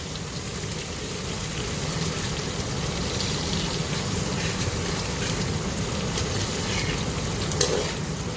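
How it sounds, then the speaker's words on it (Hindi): Three medium onions fry in hot oil with garam masala while being stirred, a steady sizzle with a soft, rain-like crackle that runs on without pause, with occasional faint scraping. "तब इसमें ऐड कर देंगे 3 मीडियम साइज़ के प्याज। इसे अच्छी तरह मिक्स कर लेंगे और इसे हम ब्राउन कर लेंगे प्याज़ों को।"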